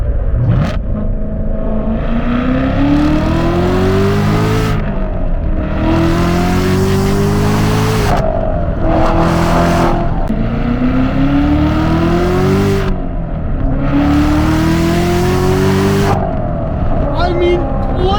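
A C7 Corvette Z06 engine revs hard through repeated gear pulls, its deep roar climbing in pitch, briefly dropping at each shift, then rising again, loud and close from inside the car.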